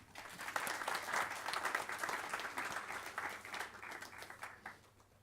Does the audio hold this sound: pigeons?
no